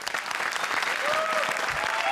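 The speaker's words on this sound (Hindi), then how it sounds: "तो हो जाए जोरदार तालियां हमारे सबसे बड़े कदरदानों के लिए" Comedy show studio audience giving loud applause for the judges, a dense wash of many hands clapping, with a thin whistle-like tone and brief voices threaded through it.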